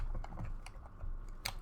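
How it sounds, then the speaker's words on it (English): Quick, uneven keystrokes on a computer keyboard, clicking close to the mic, with no talk. "hopefully this isn't as loud for the keyboard"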